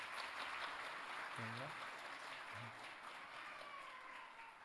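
A congregation claps in church to congratulate new catechumens at a Sunday service, a soft, distant spread of applause running throughout, with a brief voice cutting in twice over it.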